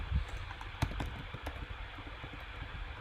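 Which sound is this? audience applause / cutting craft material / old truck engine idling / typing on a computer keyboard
typing on a computer keyboard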